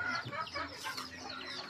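Native chickens cluck and squawk in short repeated bursts, fairly close, with faint background noise and no speech.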